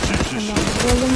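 Gunshots in the video game Zula, a quick close burst of firing that is loud and dense, with a voice talking over it.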